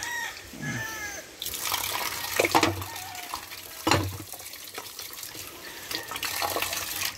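Water pouring from a tap or hose into a plant pot being cleaned of algae, a rushing splashy flow with a few bumps and splashes, interrupted by brief pauses and faint background chatter.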